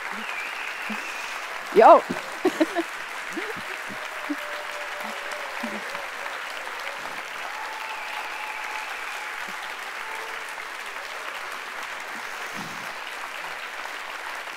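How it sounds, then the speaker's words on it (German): Seminar audience at the 2016 Schönau electricity seminar applauds Tina Ternus, a steady, fairly soft wash of clapping throughout, with a brief voice near the start. "Tina, dein Applaus."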